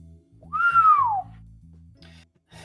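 A single person whistles a clear falling note, close and fairly loud, over a soft steady musical backing, followed by quieter musical texture.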